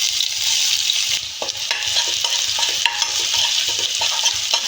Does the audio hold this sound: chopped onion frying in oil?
yes